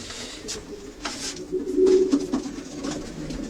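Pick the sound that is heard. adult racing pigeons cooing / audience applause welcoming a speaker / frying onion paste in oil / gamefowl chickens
adult racing pigeons cooing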